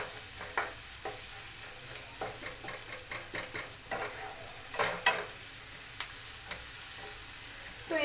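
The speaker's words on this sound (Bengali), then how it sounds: "গ্যাসের ফ্লেমটা কিন্তু হাই ফ্লেমেই আছে। ওকে। এটা একটু ভেজে নিচ্ছি।" Egg bhurji fries over a high gas flame, making a soft, low sizzle with a steady hiss. A string of light spatula taps and scrapes comes through in a loose rhythm, some a little sharper than others.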